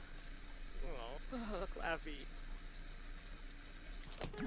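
Shower water running steadily in The Sims 4, a soft continuous hiss under game music and quiet speech, ending with a brief louder splash.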